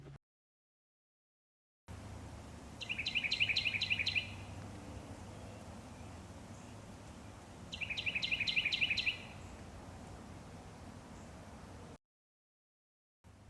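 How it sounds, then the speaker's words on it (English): A bird chirps in two short bursts of rapid, bright notes separated by a few seconds of quiet, set against a low, steady background hiss. "Did the picture you created in your mind resemble a bird chirping?"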